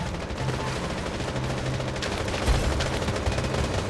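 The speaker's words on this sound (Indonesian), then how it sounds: "Wah, ada tembakan tuh dari sana." Dense, continuous gunfire from the mobile shooter Blood Strike during a ranked squad match, with rapid automatic bursts running steadily throughout at a fairly loud level.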